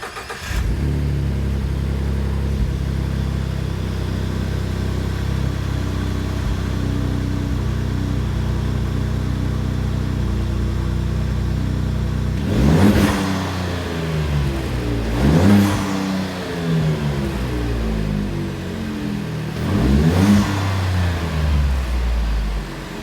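A 2011 Ford F-150 with a 3.5L EcoBoost engine and a 3-inch high-flow catted stainless steel downpipe idles steadily, then revs sharply three times, each blip rising and falling back to idle.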